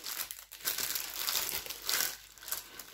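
Crinkly plastic wrapping around a diamond painting kit is pulled open, a steady run of close, bright rustling and crackling over about three seconds with no talk.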